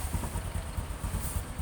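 A Honda Supra X 125 motorcycle idles smoothly nearby, its low, even putter pulsing steadily throughout with no other sounds.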